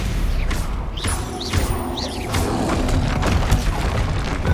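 Blasting curse from a Hogwarts Legacy duel: a busy stretch of booming magical impacts and thuds, with whooshing spell sounds and rising chirps over dense rumbling combat noise, fairly loud throughout.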